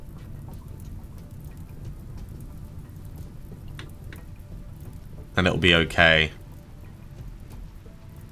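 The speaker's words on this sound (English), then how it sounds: "And the rain is coming, the rain is coming," Rain falling in the video game RimWorld, a steady hiss of drops running through the whole scene, briefly covered by a short spoken line near the end.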